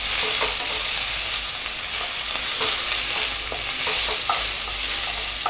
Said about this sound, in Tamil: அதாவது கோல்டன் ப்ரௌன் ஆகிற வரைக்கும் நம்ம நல்லா வதக்கிக்கலாம்.